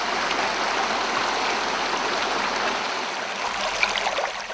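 Spring water rushing through aqueduct reservoirs, a steady broadband gush of flowing water, close and constant with no voices.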